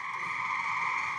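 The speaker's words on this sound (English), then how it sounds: "We're listening to frogs." Frogs croak on a played record as a dense, continuous chorus of buzzy calls at an even loudness, with no talking over it.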